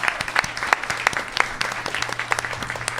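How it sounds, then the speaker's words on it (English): Live show audience applauding a guest, a scattered patter of individual claps from a modest crowd, steady and mid-distance with sharp hand strikes standing out. "Give Lindsay a round of applause"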